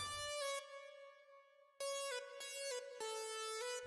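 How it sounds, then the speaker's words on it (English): A stacked synth lead in a remix, played as a bright, buzzy melodic line of sustained and quickly changing notes with a pause mid-phrase, loud and alone with no voices. "This is just a classic Sky lead stack."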